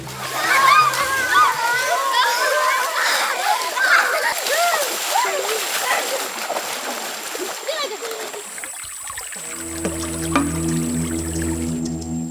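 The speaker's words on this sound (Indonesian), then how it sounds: "Mandi dengan air kecoklatan tanpa peralatan mandi adalah satu-satunya cara bagi mereka untuk bersih-bersih setiap harinya." Children bathe and splash in a brown forest river near a remote Indonesian village, with bright splashes and water slaps close by under their excited chattering voices, followed by a calmer stretch of flowing water with steady tones.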